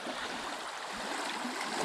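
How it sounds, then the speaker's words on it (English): Creek water flowing into a deep pond, a faint, steady trickling and gurgling wash heard close by with no voices. "the water from the creek will keep the water in here moving"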